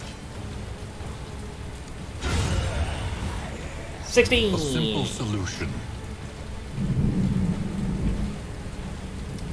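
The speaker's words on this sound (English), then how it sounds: "Very rare we hear the sound of thunder like that." Thunder and rain in the video game Darkest Dungeon 2: a steady rain wash broken by a heavy rumbling thunder roll with a sharp crack partway through, while someone talks over the storm.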